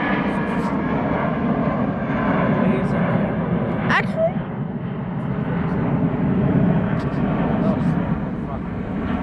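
A Spirit Airlines airliner with sharklets passing at Detroit Metro Airport, a loud steady engine roar that swells and fades, with people talking over it.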